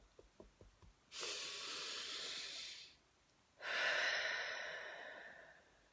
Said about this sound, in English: Okay, deep breath.